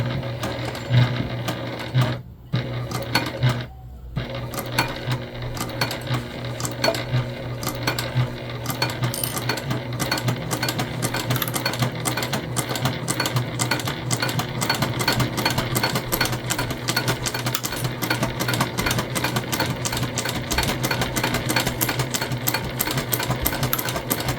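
A sewing machine runs steadily up close, stitching together a Trailblazer convertible bag, its rapid mechanical chatter continuous after a couple of brief pauses near the start.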